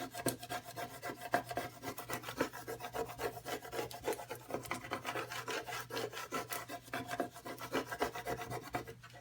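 A scraper rubs back and forth over patterned heat transfer vinyl, making a steady close raspy scratching that continues throughout with no talk.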